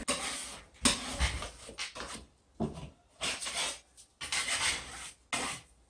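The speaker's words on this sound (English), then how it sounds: "I just take a putty knife and I just sort of run it over and take off all the, the little ridges" A putty knife scrapes ridges off a patched drywall surface in a series of short, rough rubbing strokes, close and fairly quiet, with brief pauses between passes.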